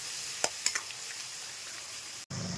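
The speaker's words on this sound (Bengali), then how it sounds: "এর মধ্যে আমি পেস্টটা দিয়ে দেবো। এবার এটা ভালো করে কষিয়ে নেব।" Spice paste of ginger, garlic, tomato and green chili sizzles steadily in a pan for Bhola bhetki jhal, a soft continuous frying hiss broken by a few light clicks of stirring.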